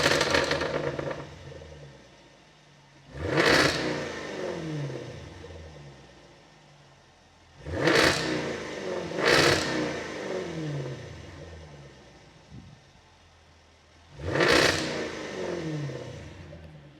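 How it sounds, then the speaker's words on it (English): A Jaguar F-Type R V8 with its active exhaust open revs hard in four separate bursts, each a loud, crackling blip that drops back to a burbling idle, with no talking. "Tell me that V8 does not sound awesome."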